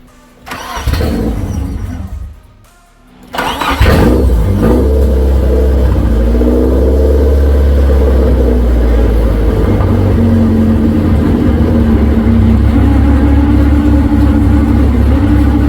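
A car engine fitted with an Xcessive intake manifold cranks in a loud burst, pauses briefly, then catches and settles into a strong, steady running drone that holds to the end.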